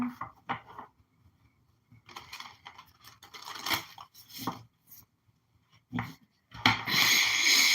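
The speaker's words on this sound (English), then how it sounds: "One last shuffle here." Tarot cards being shuffled by hand during a pick-a-card reading, a series of short papery riffles and slaps with gaps between them, ending in a louder, denser burst of card noise.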